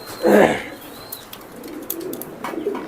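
Young pedigree racing pigeons coo, with one close, full coo near the start followed by softer calls and light chirps.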